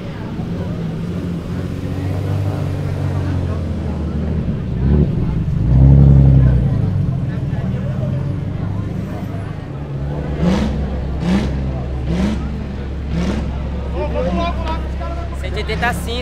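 Drift cars rev their engines at a drift event in Brazil, with a steady roar and a string of sharp rev bursts toward the end, set against a background of crowd chatter.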